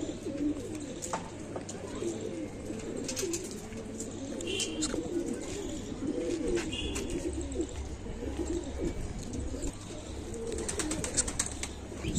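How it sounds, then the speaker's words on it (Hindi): Sialkoti pigeons coo in a low, steady murmur that runs throughout, with faint chirps and rustling above it and no talk. "असल हालत के बटेरे सियालकोटी कबूतर"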